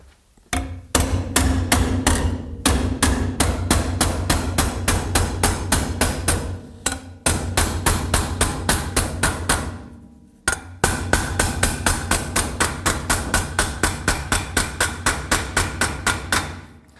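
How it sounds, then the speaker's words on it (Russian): Rapid, regular hammer blows ring against a metal plate in long runs of sharp, loud strikes, pausing briefly a few times before resuming, during work on a Suzuki Boulevard M109R motorcycle. "берем молоток"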